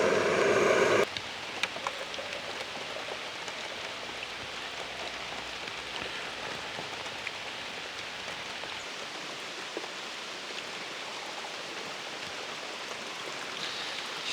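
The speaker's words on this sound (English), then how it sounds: "Just doesn't seem like it's gonna stop raining" Rain falls steadily and softly, heard from inside a car on a wet landscape photography outing. A brief louder sound opens before the constant patter takes over.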